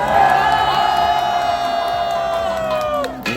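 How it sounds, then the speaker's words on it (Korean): A crowd outside a political party headquarters in Yeouido cheers and shouts loudly, with whoops and raised voices sustained throughout and trailing off at the end. "우리 김용식, 김정식 두 젊은 청년 정치인에게 여러분 박수 한번 부탁드리겠습니다"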